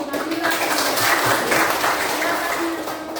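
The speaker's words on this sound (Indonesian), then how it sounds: "Tepuk tangan untuk Nabila" A classroom group applauds a student after a presentation, a steady burst of many hands clapping at close range that lasts a few seconds and then begins to thin out, with some voices mixed in.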